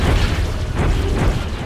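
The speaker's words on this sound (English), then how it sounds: "It's gonna throw bombs at us. We're gonna throw them right back." Bombs hurled by an angry statue boss explode in Song of the Deep, giving loud, heavy booms with deep rumbling low end that run together continuously at close range, without voices.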